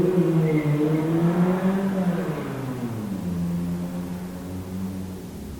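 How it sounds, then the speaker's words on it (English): Motor vehicles, mostly motorcycles, pass along a road at night, a steady engine drone with a pitch that sweeps down as they go by, loud at first and fading. "The vehicles, mostly motorcycles,"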